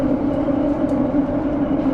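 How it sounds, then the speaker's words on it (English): A London Overground Windrush line train runs steadily along the track, giving a loud, continuous low rumble and hum with no pauses and no voices. "as the train leaves, you're literally entering the next station straight away"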